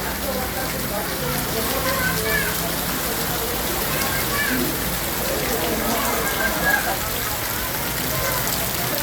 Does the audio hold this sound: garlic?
no